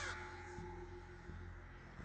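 Crows on a campus give harsh, repeated caws as alarm calls, sounding at moderate distance over a steady background rumble.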